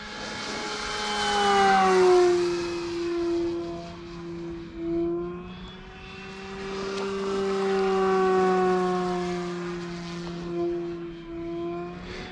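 An E-Flite F-16 RC model jet at full throttle whines past overhead, its high pitched tone swelling and falling as it sweeps by twice, loud and alone.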